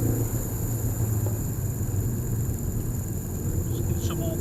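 A car with a 1.8T 20V engine runs on a twisty road, giving a steady low engine drone with no clear rise in revs, heard under a voice.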